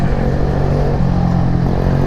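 A 50cc motorbike with a custom exhaust rides close behind on the road: a loud, steady buzzing engine drone with a low rumbling hum, continuous throughout and mixed with road and wind noise.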